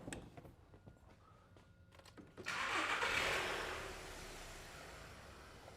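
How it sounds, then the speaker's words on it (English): A vehicle engine cranks and catches after some quiet handling noises, then settles into a steady idle that eases slightly, heard fairly close with no speech. "So I'm just going to start the vehicle up."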